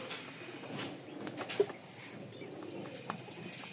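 Pigeons of a fancy breed with feathered feet and crests give soft cooing calls over steady low background noise, with a brief flutter near the middle.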